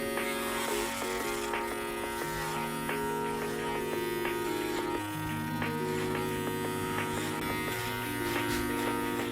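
Electric hair clippers fitted with a number 3 guard buzz steadily through a barber's haircut, a continuous close motor drone with a slight pitch shift partway through.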